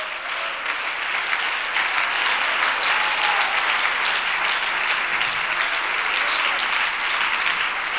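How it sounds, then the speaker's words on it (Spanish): Sustained applause from a congregation at a church worship service, steady and dense clapping throughout with no pauses, fairly loud and even. "Dale ese aplauso a él."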